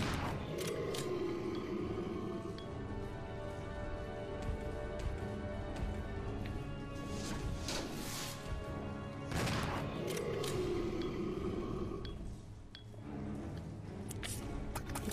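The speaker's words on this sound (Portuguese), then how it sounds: "Eu vou descarregar um pente de 12 nele e depois eu troco pra Magno de novo." Rapid gunfire as a full twelve-round magazine is emptied at the Tyrant in Resident Evil Zero HD Remaster, dense overlapping game shots and effects running continuously at steady loudness with no pauses.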